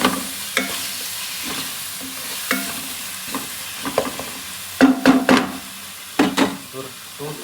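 Biryani masala with mint and coriander being stirred and sautéed for mutton biryani, repeated loud scraping and clanking stirs of a ladle over a low background sizzle, no talking.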